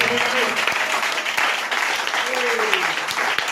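Congregation applauding in church during a Sunday worship service, a steady, dense clapping that fills the whole stretch with a voice faintly audible beneath it.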